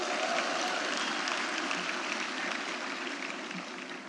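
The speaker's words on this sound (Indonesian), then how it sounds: "Kita berikan tepuk tangan juga." An audience at a formal gathering with a steering committee gives steady, even applause that holds at a moderate distance for the whole four seconds, with no voices rising above it.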